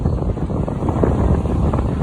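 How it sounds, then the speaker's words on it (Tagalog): Strong winter wind buffets the microphone outdoors at Chelsea Heights, a loud, continuous low roar and rumble that drowns out everything else, with no speech. "pasensya na kayo, mahangin"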